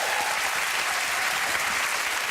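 A television studio audience applauds, a dense, steady wash of clapping filling the whole short stretch with no voices.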